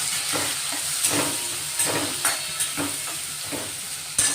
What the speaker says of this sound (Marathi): तेलातच हिंग टाकायचा आणि एक कट केलेला कांदा आहे तो टाकून घेऊ आपण